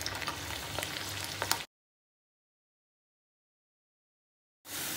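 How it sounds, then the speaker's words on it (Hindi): Garlic fries in hot oil, giving a steady close-up crackling sizzle with small pops. The sizzle cuts to silence for about three seconds, then comes back. "तेल गरम हो गया है और इसमें हम इन जो लहसुन है उसको अच्छे से फ्राई करेंगे"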